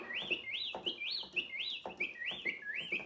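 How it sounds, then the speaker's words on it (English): The bird tweet voice of a Yamaha PSR-170 keyboard plays a quick series of repeated chirps, bright and evenly spaced, with a faint backing underneath. "Bird tweet."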